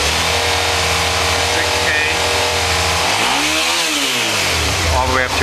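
Engine held at a steady high rev around 4000 RPM for a tachometer signal check, a loud continuous drone with pitch wobbling briefly mid-way, with talk over it.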